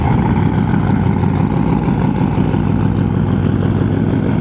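A sandcar engine idles steadily during a morning warm-up in the dunes, a loud, close, continuous low rumble that holds an even pitch with no revving and no voices.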